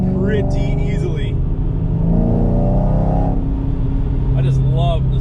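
A 6.2 liter supercharged V8 in a 2019 Ram revs up and rises in pitch, a deep rumble heard from inside the vehicle, while a person talks over it at the start and the end.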